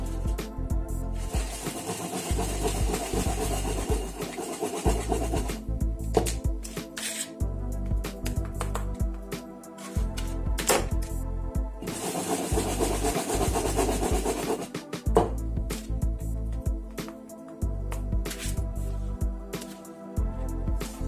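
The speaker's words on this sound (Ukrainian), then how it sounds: "Починаємо формувати наші сирнички." Hands shape cottage cheese pancakes (syrnyky) in flour, giving quiet, close rubbing and patting sounds that come in uneven repeated bursts.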